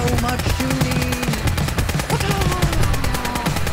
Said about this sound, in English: So many explosions, so much shooting.